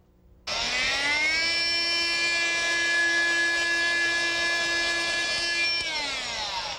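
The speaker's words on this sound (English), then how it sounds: "Now let's try the newest accessory, the flush cut saw." A fine detail sander fitted with a flush cut saw accessory, removing grout, starts abruptly and runs with a steady, high, buzzing oscillating whine that holds at a constant pitch for several seconds with no talk.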